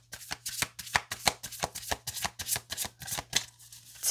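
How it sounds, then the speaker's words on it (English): Tarot or oracle cards being shuffled in quick, crisp riffling bursts, about a dozen sharp clicks and flutters in a steady rhythm, close and fairly loud with no talking. "I'll do 3 more shuffles and we'll move on to the oracle cards"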